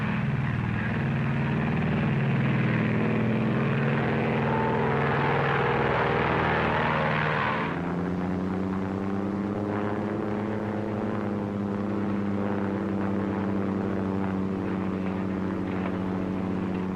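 A propeller airplane engine drones loudly and steadily throughout, its pitch and tone shifting about halfway as the engine note settles into a lower, smoother hum.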